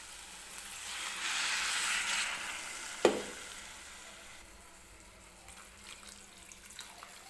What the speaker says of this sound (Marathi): आपल्याला टाकून घ्यायचं आहे पाणी.